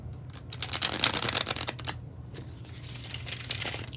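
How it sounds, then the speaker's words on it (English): A deck of playing cards given a bridge shuffle, with bursts of rapid riffling clicks rising and falling, then a brief pause before a second, brighter riffle. The sound is close and crisp, with a low steady hum underneath. "when I do the bridge shuffle"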